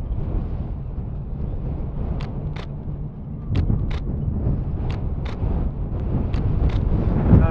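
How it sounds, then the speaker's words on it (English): Strong wind at a boat graveyard roars and buffets a microphone steadily throughout, a low dull rumble, with several sharp clicks popping through at intervals. "God, it is blowing windy down here today"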